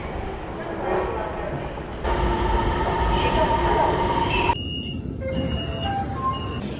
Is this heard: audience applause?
no